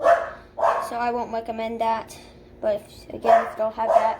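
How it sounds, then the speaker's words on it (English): A pet dog barks in a series of sharp, close barks and yips while a person keeps talking over them in a home. "sorry for my dog barking"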